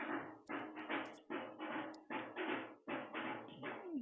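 A dhol drum played by neighbours thumps in rapid rhythmic bursts of heavy strokes, steady and moderately loud from nearby, with occasional faint higher clicks between the beats.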